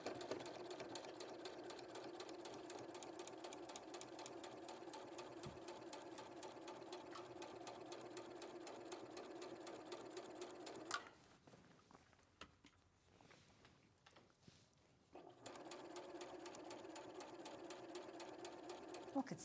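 A domestic sewing machine stitches quilt pieces at a steady, even pace, its rapid needle rhythm running close and continuous before pausing briefly for several seconds, then resuming.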